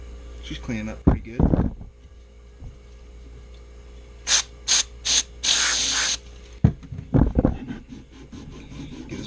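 Several short bursts of an aerosol spray can hiss close up onto an axe, followed by a longer spray, with brief talking before and after.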